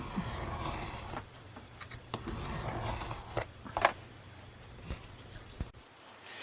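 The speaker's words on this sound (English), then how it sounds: "just take our time and go cut, cut, cut all the way down through" A razor blade cutting through material for a curved, rounded book spine, giving soft, repeated scraping slices and small clicks at close range with no talk.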